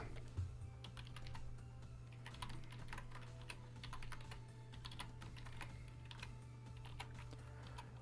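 Quiet, steady typing of Python code on a computer keyboard, close clicks of keys in uneven bursts over a low electrical hum.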